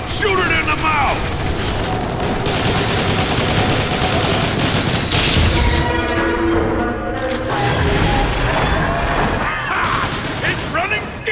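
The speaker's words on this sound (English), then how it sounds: "Shoot it in the mouth!" Heavy gunfire in Transformers: War for Cybertron blasts at a monster's mouth, a loud, dense, continuous barrage with mechanical clatter and booms, while voices shout over it.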